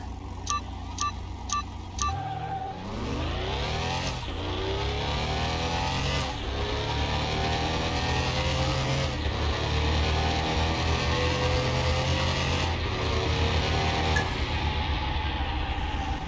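Porsche GT racing in Car Mechanic Simulator 2021, the engine revving hard and climbing through repeated gear shifts, each rise cut by a brief drop, loud and continuous after a few short beeps at the start.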